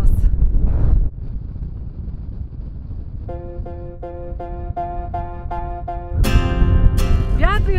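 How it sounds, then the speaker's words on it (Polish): Loud wind buffets the microphone in low rumbling gusts outdoors in Bulgaria, while a rhythmic pulsing tone and later a bright rising electronic sound play over it. "Wiatr jest dzisiaj taki jak w Ekwadorze na 4000 metrów."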